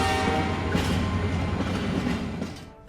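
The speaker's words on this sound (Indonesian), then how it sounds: "Anak-anak itu segera naik kereta yang menuju Florida." A passenger train bound for Florida rolls along the rails, a loud, close, continuous rumble and clatter that eases slightly near the end.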